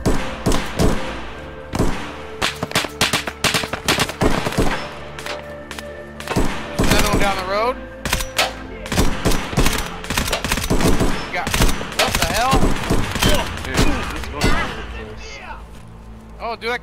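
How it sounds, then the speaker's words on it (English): Bursts of gunfire ring out in Escape from Tarkov, sharp rapid shots and automatic volleys repeating through the whole stretch, some close and loud, with voices now and then. "Dude, I keep getting shot at."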